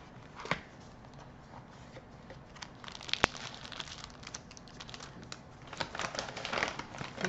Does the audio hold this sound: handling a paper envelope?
yes